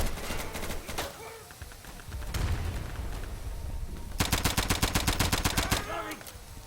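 Gunfire in the video game Insurgency: quick bursts of rapid automatic shots separated by brief pauses, with a long rattling burst toward the end, loud and close.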